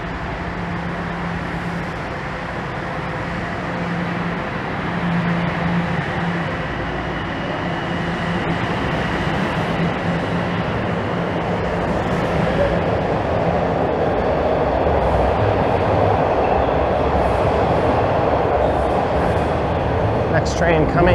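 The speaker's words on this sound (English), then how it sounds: "And that's my train." A Toronto subway train rumbles and hums steadily as it pulls away from the station, the noise building gradually and staying loud throughout, with some background chatter.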